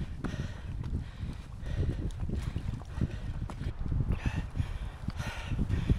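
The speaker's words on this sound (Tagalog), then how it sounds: "nandito na tayo sa loob ng woods pero ang lakas pa rin ng hangin" Strong wind gusts rush through woods on a hike at Bamford, a continuous blustery roar with low rumbling buffets against the microphone and occasional creaks, no voices.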